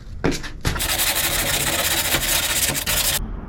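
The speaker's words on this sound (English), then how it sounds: "I will rough up the existing fiberglass a little bit so I get a good bonding" A short rub or two, then continuous harsh sanding of old fiberglass on a paddleboard, a steady close abrasive hiss that stops abruptly.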